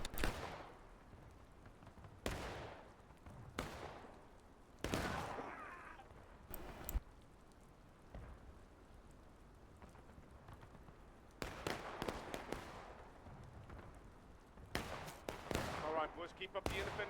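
Musket volleys in a Smoke and Steel video game battle, sharp cracks and ragged rolling bursts of gunfire repeating through the scene, some near and some distant, with talk now and then.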